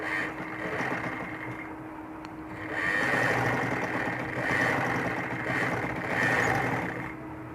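A sewing machine stitches fabric for an umbrella-cut baby frock, a steady mechanical whir running continuously and swelling slightly in bursts, close and fairly loud.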